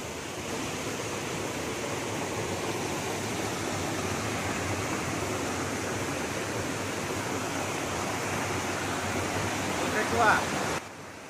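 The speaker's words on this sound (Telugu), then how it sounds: "ఇదేనండి పైనుంచి వాటర్ ఫాల్ వ్యూ" A waterfall pours down a mountainside, heard from the top, as a steady broadband rush of falling water that stays constant, with a brief bump of extra noise near the end.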